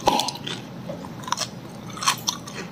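Small oranges eaten whole with their peel, crunched up close in a series of sharp, wet bites and chews with brief pauses between them, no voices.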